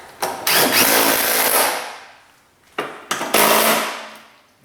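A power tool runs in two loud bursts with a pause between them while tightening a bolt on a Chevy Equinox wiper. The whir is close and rises sharply, then fades at the end of each run.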